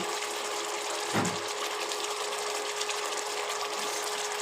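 Water poured into a paneer and poppy seed posto mixture, a steady rushing flow that runs without a break.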